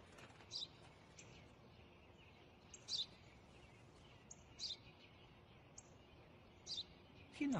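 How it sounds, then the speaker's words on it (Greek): A house sparrow chirps in a few short, faint bursts spaced across a quiet background, with brief gaps of near silence between calls. "Ένα σπουργίτι είναι ο πατέρας."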